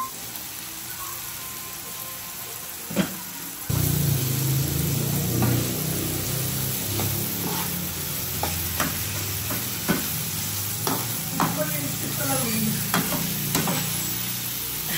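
Ground beef for stuffed squid sizzles loudly in a pan, a steady frying hiss that jumps up as the meat lands, with repeated scraping stirs and clinks over it.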